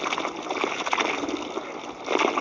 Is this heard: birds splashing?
yes